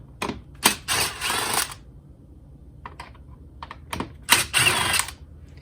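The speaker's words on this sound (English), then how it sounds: "we're going to loosen these two screws in the front here, and you just need to use a Phillips screwdriver" Phillips screwdriver loosening two front screws on the air filter lid of a Honda CR-V, heard as close, quick ratcheting clicks in several short bursts separated by quiet gaps.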